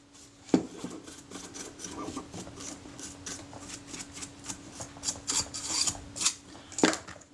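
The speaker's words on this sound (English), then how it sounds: "with the dry paintbrush I'll flick this dust loose." A dry paintbrush flicking dust loose inside a jammed Kodak Retina Reflex IV camera, a quick series of close, soft scratchy bristle flicks and rasps in an uneven rhythm, with no voices.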